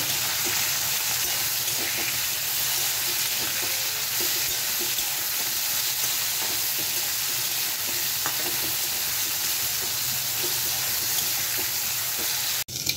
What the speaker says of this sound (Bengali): উচ্ছেটা দিয়ে আরও 2 মিনিট ভেজে নেব।